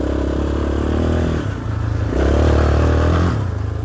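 Yamaha 350 Raptor quad running under a rider, its engine droning loud and close with a steady buzzing note. The revs dip briefly and then climb again, and no one speaks.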